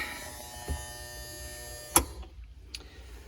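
Small bilge pump motor on a model micro tug, a faint thin electric whine with a steady hum, close by, cut off abruptly after a sharp click partway through, with a few quieter clicks after.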